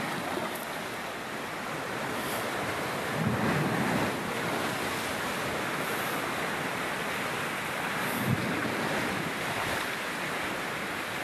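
Strong surf at Bagulayag beach: waves roll in and break as a steady loud wash, with heavier crashes around the third and eighth seconds and wind buffeting the microphone throughout, no voices.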